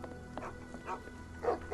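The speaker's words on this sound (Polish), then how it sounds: "No i tutaj pies słyszę" A dog in the video game Sherlock Holmes The Awakened, set on a boat shack, gives a few soft barks and yips at a moderate distance over a low steady hum.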